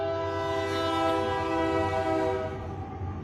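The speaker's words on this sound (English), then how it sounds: "Train." A train rolls past with a sustained, loud horn blast, the chord holding steady for several seconds over the rumble of rail cars, heard alone without speech.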